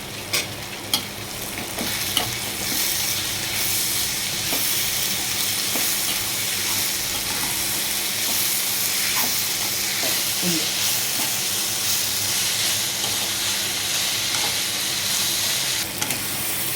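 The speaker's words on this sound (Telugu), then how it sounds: "ఇవన్నీ వేసి కలుపుకోవాలి" Onion curry frying in a pan with ginger-garlic paste and salt, stirred steadily: a continuous close sizzle with scattered scraping clicks of the spoon, running alone without talk throughout.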